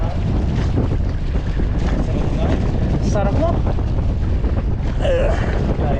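On a fishing boat out at sea, a strong gusting wind buffets the microphone in a steady loud roar, with water sounds underneath and brief speech from people aboard.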